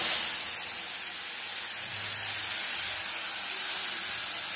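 Spice paste mixed with water hits hot oil in a pan, a loud steady close hiss of sizzling and spattering that holds without a break throughout.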